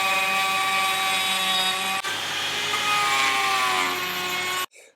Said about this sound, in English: now I can go to town on this end grain wenge, which is going to be delightful for my little router